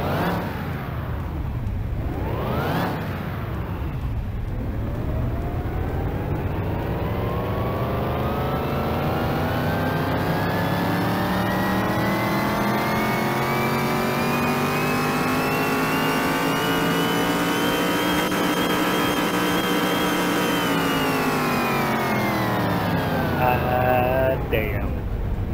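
A supercharged lowrider engine, the Bolt Cape MK4 in Car Mechanic Simulator 2021, revs in one long sustained pull that climbs steadily in pitch, holds high and loud, then winds back down near the end.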